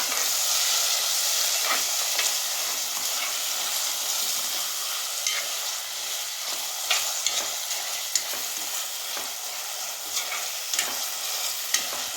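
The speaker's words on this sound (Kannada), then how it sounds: "ಈಗ ಚೆನ್ನಾಗಿ ಮಿಕ್ಸ್ ಮಾಡ್ಕೊಂಬಿಡೋಣ" Green masala for avarekai sambar sizzles steadily in a frying pan while a spoon stirs and scrapes through it in irregular strokes, close and continuous, with no talking.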